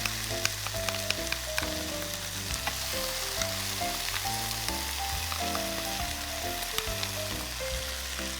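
Squid and seasoning sauce stir-frying over high heat in a hot wok with vegetables, a loud continuous sizzle and crackle with spatula scraping and tossing, steady and close with no talking.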